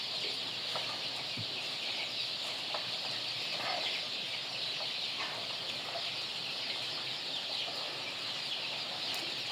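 Chickens in a large poultry house holding thousands of birds give scattered soft clucks over a steady, dense background hiss and hum that runs through the whole clip.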